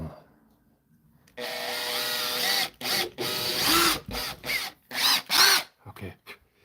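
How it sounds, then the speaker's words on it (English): A power drill boring a hole in wood, whirring in several bursts of varying length separated by short pauses, close and fairly loud. "So let's take the drill and"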